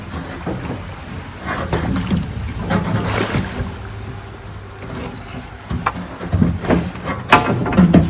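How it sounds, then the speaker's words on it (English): Stone-laden barge pushed into the upper sluice of a pyramid construction model, giving low sloshing and knocking water sounds with occasional bumps, close and moderate, with no talking. "Now I am ready to push barge with stone into upper sluice"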